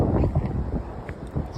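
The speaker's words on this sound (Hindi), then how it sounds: "वहाँ इतनी ज़ोर से हवा चल रही थी" Strong seaside wind at the lighthouse in Dwarka buffets the microphone in heavy, uneven low gusts throughout the short moment.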